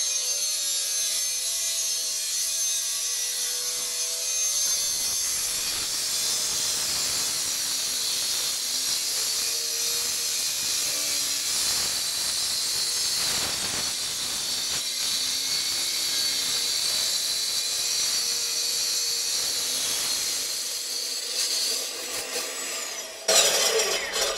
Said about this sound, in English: he's going to cut it out of the pad still